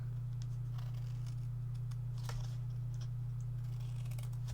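Scissors snipping through cardstock from the corner, a few quiet crisp cuts and paper rustles spread over a few seconds, faint against a steady low electrical hum, no talking.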